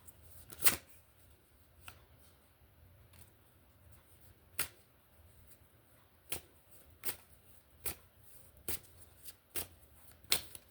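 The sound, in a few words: tarot cards being shuffled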